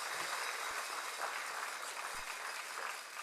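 Applause from an audience at the Luminate Finals 2025 event, a steady, fairly faint wash of clapping from a crowd heard at a distance, continuous for a few seconds without talk.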